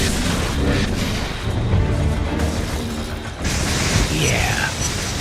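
Gas grenades going off in the PS3 game inFAMOUS: loud booming bursts and hissing blasts over a busy, dense game soundscape, with someone speaking over the action.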